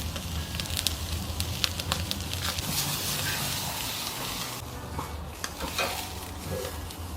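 Wagyu petite tender searing over open flames on a kamado grill, a steady close sizzle and crackle of fat hitting fire with scattered pops, continuous throughout with no talking.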